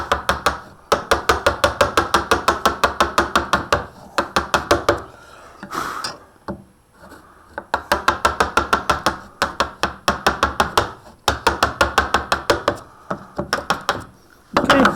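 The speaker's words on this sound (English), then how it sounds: "And we chisel." Mallet strikes driving a chisel into wood to cut a stopped housing joint, steady rapid rhythmic knocks in long runs with brief pauses, close and loud.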